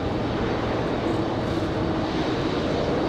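A Boeing Dreamliner jet departs from Raleigh-Durham International Airport, a steady, broadband engine roar that stays loud and constant throughout with no voices.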